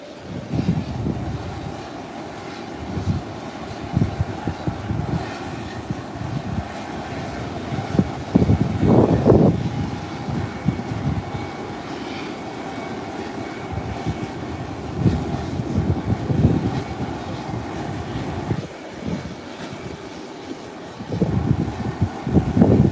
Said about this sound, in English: It's rolling down whilst Delta is pushing back to take position to start taxiing.